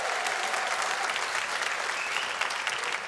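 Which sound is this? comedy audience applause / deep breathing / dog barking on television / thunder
comedy audience applause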